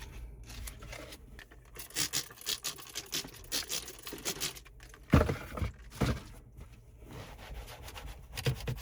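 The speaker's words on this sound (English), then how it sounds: "we'll just clean the area with some isopropyl alcohol, use this wipe here" An isopropyl alcohol wipe rubbed over the surface of a 2024 Toyota Prius MXWH60, quiet close scrubbing and swishing strokes in an uneven rhythm with a few sharper knocks.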